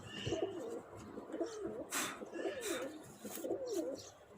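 Pigeons in a loft coo in repeated throaty phrases, roughly once a second, fairly close, with faint rustling and a brief wing flutter in the background.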